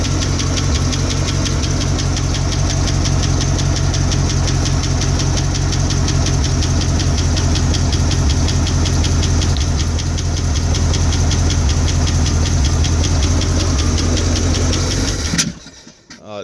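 A 1974 International 1600 truck engine idles after a cold start with a loud, steady, knocking rumble close by. It runs evenly for about fifteen seconds, then cuts off abruptly at the end.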